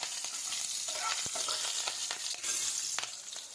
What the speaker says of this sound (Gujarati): તેલ ગરમ થાય એટલે એમાં જીરું નાખીશું, હિંગ નાખીશું, લીલા મરચાં નાખી દઈશું અને મિક્સ કરી લઈશું